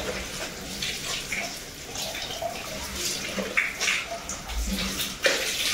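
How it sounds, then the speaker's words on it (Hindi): Water runs steadily from a bathroom tap at low pressure into a basin, a continuous splashing hiss with occasional louder splashes and faint sounds of movement nearby. "नल से पानी बहुत कम आ रहा है"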